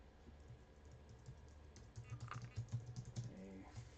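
Typing on a computer keyboard produces quiet, close key taps, sparse at first and then quicker clusters of clicks, all faint against a low room hum.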